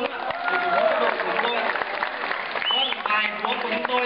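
Applause from a crowd at a church youth summer camp campfire night, a continuous mass of clapping mixed with voices and shouts throughout.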